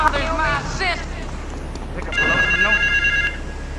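A telephone rings in Grand Theft Auto 3 gameplay, giving a short electronic tonal ring near the end, while a character's voice talks over the game's background noise.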